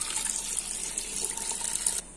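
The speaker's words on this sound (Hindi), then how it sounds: "पानी डालेंगे," Water is poured steadily into a cooking pot of ginger and garlic for a mixed vegetable gravy, a close, hissing splash that lasts about two seconds and then stops.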